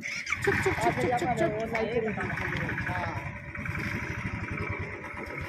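A voice imitates a motorbike engine with repeated rhythmic chugging syllables, close and clear, while a real motorcycle engine rumbles underneath on a market street in Gurgaon.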